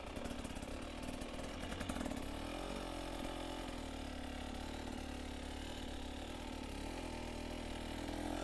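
An engine revs as the clutch slips, a steady mid-pitched drone that rises and sways in pitch, heard close at moderate level with no talking.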